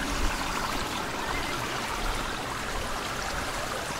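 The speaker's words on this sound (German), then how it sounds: "da kommt dann Wasser rausgesprudelt" Water spouting from a flower-shaped fountain at a resort pool, a steady close splashing rush with no pauses and no voices.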